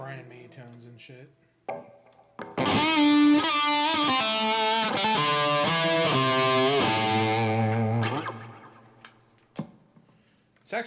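An electric guitar played through distortion and effects gives thick, singing tones in a held, sustained phrase, preceded and followed by brief plucked notes and handling noise.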